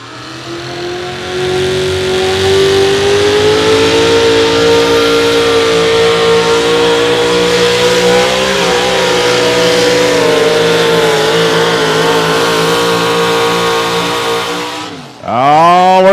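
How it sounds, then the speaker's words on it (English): Eric Claypool's modified 4x4 Chevrolet pulling truck at Rock Valley Outlaw Pulling screams with a loud, sustained engine roar that climbs steadily in pitch, then cuts off briefly before blasting back up as it takes off. "Chevrolet getting ready to take off right now"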